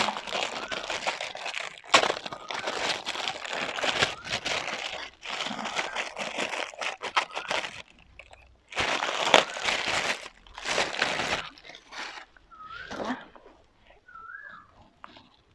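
Plastic packaging on a Disney 7-Eleven lunch box set being unwrapped, crinkling and crackling in close bursts with brief pauses between them.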